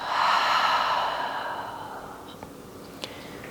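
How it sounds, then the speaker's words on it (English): A long, audible open-mouth exhale during a yoga breathing exercise, a breathy sigh that fades gradually over a few seconds, close and alone. "Open the mouth, exhale."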